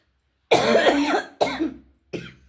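Three harsh coughs, the first long and strained, the next two shorter, close and isolated with silence between.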